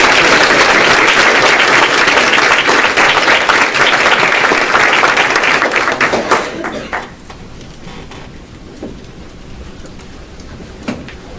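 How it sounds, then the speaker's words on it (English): An audience at a county school board meeting applauds students being recognized. The clapping is loud and dense at first, then thins out and fades after about six seconds, leaving a few scattered claps over a quiet room. "Let's give another round of applause."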